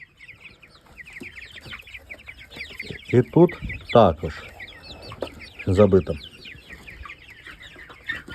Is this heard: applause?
no